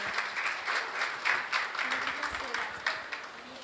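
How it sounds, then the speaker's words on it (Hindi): An audience at a school theatre workshop at Saraswati Shishu Mandir claps for the children, with steady, fairly dense applause through the whole clip and a little voice mixed underneath. "सभी ताली बजाएंगे।"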